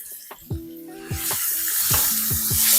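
Onions dropped into a little hot oil (olive or canola) for Nigerian fried rice, with a sizzle that swells and grows steadily louder, punctuated by several sharp metallic utensil clinks against the pan.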